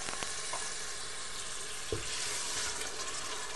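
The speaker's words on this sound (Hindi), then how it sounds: "जब मिर्चें इस तरह पक जाएंगी" Green chilies frying with masala in a pan for a rajma curry give a steady, close sizzle that fills the short stretch, with a few faint clinks of a spoon or utensil and no voices.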